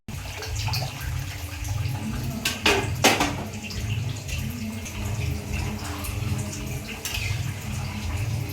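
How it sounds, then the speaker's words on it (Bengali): Water trickles and splashes steadily into a pot of Gobindobhog rice being cooked for pulao, a continuous close, moderately loud pour with no talking. "জলটা এরকম আস্তে আস্তে খেপে খেপে অ্যাড করবে"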